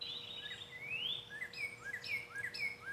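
Wild Northern Cardinal calling outdoors at a songbird banding site, giving a series of clear, sharp chirps and short rising whistled notes that are moderately close, over soft background hum and with no talking.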